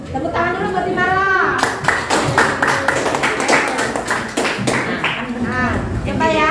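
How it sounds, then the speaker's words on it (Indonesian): A classroom of students claps together for a classmate, a burst of quick, dense hand claps that starts after a spoken voice and runs to the end, with talking briefly audible over it. "Ya, tepuk tangan dulu buat Imara."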